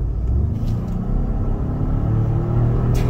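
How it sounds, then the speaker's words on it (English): A car accelerating hard, a loud continuous low engine rumble heard from inside the car, steady throughout with no talk. "I'm gonna step on the gas really hard."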